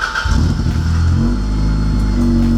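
A Toyota AE86 Corolla drift car with a custom exhaust pulls away, its engine revving up loud and close with a raspy exhaust note, then settling into a steady droning run as it drives.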